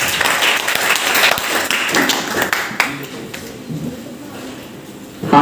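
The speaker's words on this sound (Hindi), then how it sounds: "आप तालियों से" An audience claps at a farewell ceremony for M.A. Urdu students, welcoming a guest; a dense, fairly loud burst of applause that thins out and fades over several seconds.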